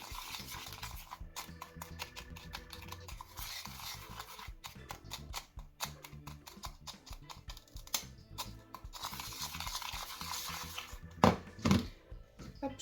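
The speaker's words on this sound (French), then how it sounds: "Donc j'écrase les petits morceaux de sucre" Small sugar lumps being crushed for a glue-free slime made with shower gel and sugar, giving close, dense, irregular crunching and scraping clicks that run steadily throughout with no voices.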